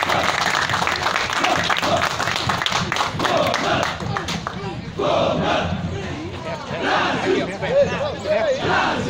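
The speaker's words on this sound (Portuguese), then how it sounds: "Grupo Reviver da Melhor Idade de Olambra recebe também os aplausos" A large crowd claps and cheers continuously at a civic parade in Holambra, Brazil, with sustained applause mixed with shouts and chatter, loud and close throughout.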